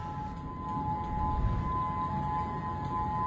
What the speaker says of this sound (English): We hear a siren, we think a tornado, but no, not when you're next to the beach.